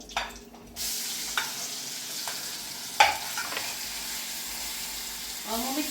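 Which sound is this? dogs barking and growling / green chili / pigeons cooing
green chili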